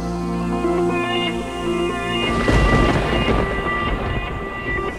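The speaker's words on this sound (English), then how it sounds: "Look at this rain." Heavy rain with rumbling thunder, a broad wash of noise that swells midway, loud and close, over a steady tonal background without talk.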